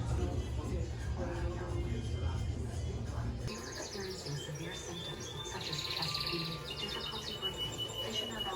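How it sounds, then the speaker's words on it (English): Small bird chirps indoors in a shop full of plants, quick bright tweets and trills scattered through a room tone with people talking faintly in the background. "There's a live bird in here."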